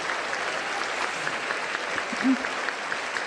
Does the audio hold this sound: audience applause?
yes